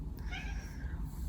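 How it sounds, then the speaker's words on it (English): A single cat meow, short and plaintive, heard close against a low background hum. "I really hope you guys could hear the cat meow."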